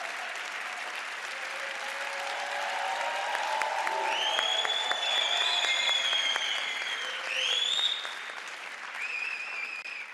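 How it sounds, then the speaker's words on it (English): A large audience at a 2022 Jeunesse Global business event in Hungary breaks into steady, sustained applause from a crowd, with bright tonal sounds rising over the clapping. "Can we get a round of applause for Jeunesse Global?"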